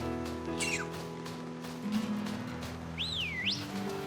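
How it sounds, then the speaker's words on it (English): The player character whistles in the video game Pokemon Violet: a short falling whistle near the start, then a longer swooping up-and-down whistle, quiet over a low game hum. "Why did I whistle?"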